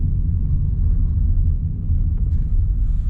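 Steady low rumble of a car moving along a road in Mirny during the rainy season, continuous road and engine noise with no voices.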